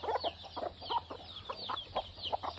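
Broody chicken hens cluck in repeated short, rhythmic bursts close by, with a low steady hum beneath and no talking.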